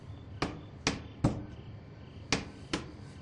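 Hammering boards over a window in State of Decay: five sharp, separate blows in an uneven rhythm, moderately close, over a quiet background without talk.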